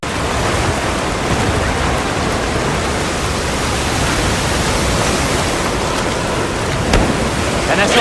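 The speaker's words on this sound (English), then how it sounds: "A downpour like this could have an effect on the monsters." Heavy rain pours down in the game Monster Hunter Wilds, a dense, steady, loud roar of downpour that fills the whole stretch with no break.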